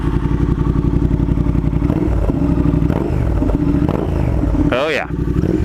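A Triumph Thruxton R motorcycle fitted with cone slip-on mufflers runs with a deep, throbbing exhaust rumble, close and loud, with a quick rev swelling near the end.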